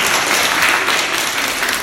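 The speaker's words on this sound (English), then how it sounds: "give everyone a round of applause and yourself" Children in a classroom of nine-year-old students clap together after a lesson, a dense steady burst of applause lasting a couple of seconds with no talking over it.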